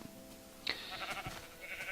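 A sheep in Minecraft bleats once, short and wavering, over a quiet game background with a few soft thumps.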